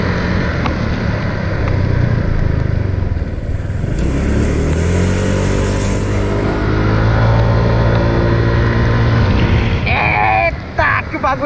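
A modified-CVT 2016 Honda PCX scooter accelerates loudly, the engine note climbing steadily in pitch as it pulls hard, close and continuous with wind rush, easing off near the end.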